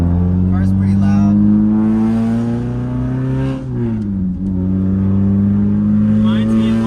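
A loud Toyota Corolla AE86 GTS engine hums steadily nearby, its pitch rising under acceleration, dipping as gears shift, then climbing again, with a voice faintly talking over it.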